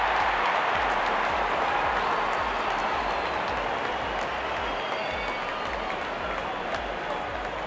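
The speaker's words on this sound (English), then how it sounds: "Openers walking in and the crowd cheering in anticipation." Game crowd in the cricket video game Real Cricket 22 cheering steadily as the openers walk out for a T20 match, a dense continuous roar with applause-like texture that holds at a constant level throughout.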